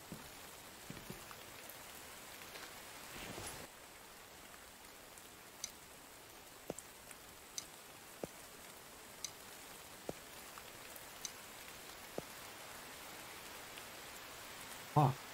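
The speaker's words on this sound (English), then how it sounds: "Stop raining." Steady rain pattering in a zombie survival video game, a dense even hiss of drops with sparse sharp ticks scattered throughout, heard alone with no voices.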